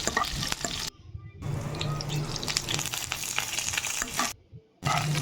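Curry leaves sizzle and crackle in hot oil with mustard seeds, cumin, chana dal and green chilli for okra curry, a steady close frying hiss broken by two brief drops into near silence.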